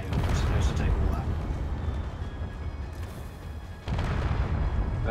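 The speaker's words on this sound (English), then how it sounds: "that is a lot of fire" Heavy weapons fire between spaceships in a fleet battle in the game Space Engineers rumbles as a loud, continuous barrage of booms, with a fresh surge near the end and voices talking over it.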